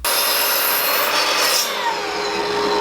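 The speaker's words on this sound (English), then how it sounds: "I'm going to be using a miter saw to make all these cuts" A miter saw rips through 2x4 lumber in one continuous, loud, close cut lasting a couple of seconds, bright and rasping, then easing slightly toward the end.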